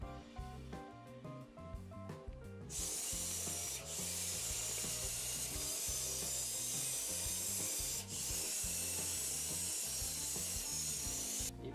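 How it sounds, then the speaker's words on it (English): A powerful WiFi-controlled robot chassis drives quickly around, making a steady loud rushing and rubbing noise over background music that starts after a quieter opening. "This is a very powerful chassis and can move around quickly."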